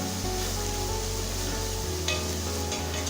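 Onion and ginger garlic paste sauté in a pan for a Kerala-style chicken curry, giving a steady soft sizzle with a low hum underneath and a few brief stirring scrapes.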